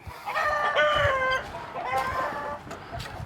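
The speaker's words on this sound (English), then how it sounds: "Old squawky hen." A farmyard hen gives a run of loud, nasal squawks and clucks close by, in two bursts separated by a short pause.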